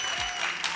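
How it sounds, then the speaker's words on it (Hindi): A studio audience at a comedy show applauds in a steady, dense burst of clapping, close and continuous throughout the brief moment. "एक बार गौहर और राजीव के लिए जोरदार तालियां।"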